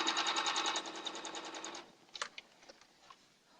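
Sewing machine stitching quilt pieces, a rapid even mechanical chatter running loud for about two seconds before stopping abruptly, followed by a few faint clicks and handling noises.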